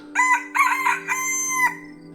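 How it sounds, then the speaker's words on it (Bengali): A rooster crows at night from the corner of a courtyard, one loud, close crow in three drawn-out rising and falling phrases that stands alone against a quiet background. "উঠোনের এক কোণা থেকে ডেকে উঠল একটা মোরগ"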